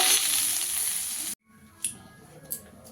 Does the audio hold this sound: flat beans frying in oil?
yes